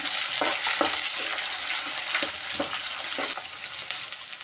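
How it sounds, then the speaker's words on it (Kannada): Chopped onions and green chillies fry in hot oil for a vegetable masala upma, a loud continuous sizzle with scattered spatula scrapes and stirs throughout, close and unbroken by speech. "ಇವಾಗ ನಾನು ಎಣ್ಣೆಯಲ್ಲಿ ಹಾಕ್ತಾಯಿದ್ದೀನಿ. ನಾನು ಈರುಳ್ಳಿ ಹಾಕ್ತಾಯಿದ್ದೀನಿ."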